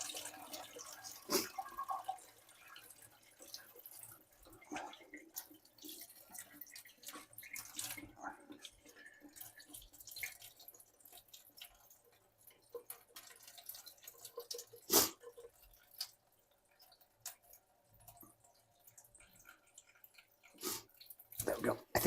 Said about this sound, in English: just a quick little wash, just to make sure that we get all of that brine out of there